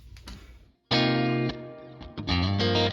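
An electric guitar plays through an AC30-style reverb patch on a Line 6 Helix LT, with a few muted picks followed by loud, sustained distorted chords that ring out with washy reverb.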